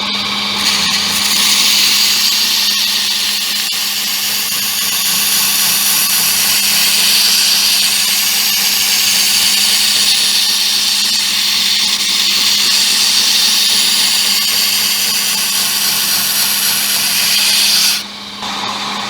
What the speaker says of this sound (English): We're going to come back in and grind the actual edge on this right now.